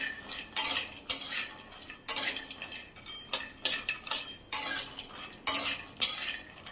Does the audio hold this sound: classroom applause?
no